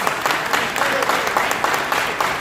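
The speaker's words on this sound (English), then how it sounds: "let's give yourself a round of applause." A crowd gathered at city hall applauds, a loud, close wash of clapping with a few individual hand claps standing out, some faint voices mixed in beneath.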